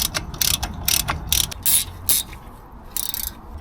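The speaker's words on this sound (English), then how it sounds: "Now it's time to torque down this 145 Newton meters, I believe." A ratchet wrench tightening a car part down to 145 newton meters in a repair shop: bursts of rapid, close metallic clicking in several quick strokes, pausing between pulls, with no talking.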